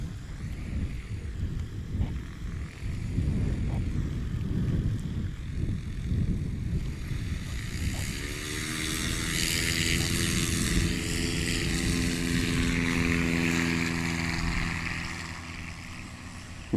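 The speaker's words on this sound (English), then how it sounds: "Really good takeoff there for 300 Bravo." A 1957 Cessna 172 propeller airplane takes off in a short takeoff competition on a grass field. A loud engine and propeller drone rises in pitch as the plane passes and climbs away, with wind buffeting the microphone.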